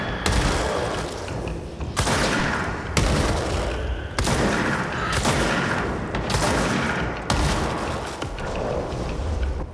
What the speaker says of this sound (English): Shotgun works pretty well on him, but it looks like I only have 6 shots